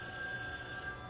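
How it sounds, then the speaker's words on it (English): Telephone ringing indoors with a steady electronic bell tone, fairly faint and continuous through a short moment, with no voices over it. "The phone is ringing."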